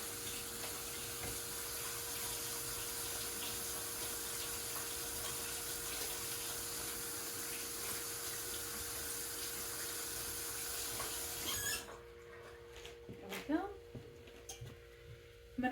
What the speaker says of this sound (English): And let me get my hands washed.